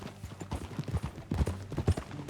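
Horse hooves clip-clop in the video game Red Dead Redemption 2, a quick, steady run of close, thudding footfalls with light background rumble, no talking.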